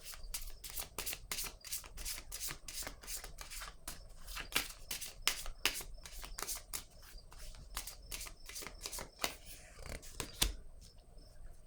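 Tarot cards being handled, shuffled and laid down give close, crisp flicks and snaps in quick irregular bursts, with a few sharper slaps near the end, all quiet and alone.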